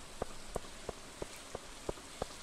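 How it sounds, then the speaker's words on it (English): Heavy rain falls in Stardew Valley as a steady hiss, punctuated by a regular series of soft, evenly spaced tapping drops about every third of a second, with no voices. "But it does seem to be raining quite heavily."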